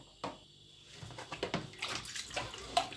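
Soaked rice noodles for Pad Thai lifted out of a basin of water, with a soft splash, then sloshing and dripping water that grows busier toward the end.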